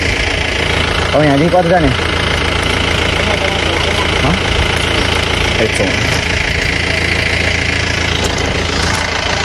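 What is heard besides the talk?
motorbike engine started and idling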